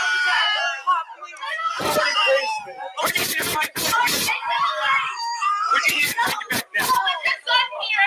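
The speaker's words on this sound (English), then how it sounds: "Women screaming, children screaming," Women and children scream in a chaotic crowd, high shrill cries overlapping in bursts with harsh clatter and jostling noise, loud and close, amid frantic voices.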